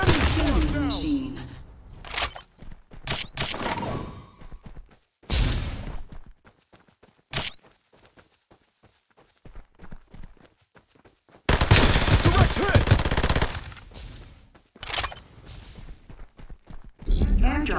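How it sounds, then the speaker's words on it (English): Rapid bursts of gunfire in the battle game Farlight 84 crack out in loud clusters, with a long sustained volley late on, separated by quieter gaps with faint footsteps. "I'm under fire!"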